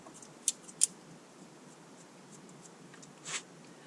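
A cutter trims the cap of an Alec Bradley Tempus Natural cigar with a couple of quick, faint snips up close, followed by a soft rustle in a quiet room.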